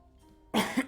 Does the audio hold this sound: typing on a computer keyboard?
no